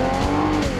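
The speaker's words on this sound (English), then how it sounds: "Rev up your engine!" A loud car engine roaring at high revs, a sustained close-up whine with a brief tire-squeal edge.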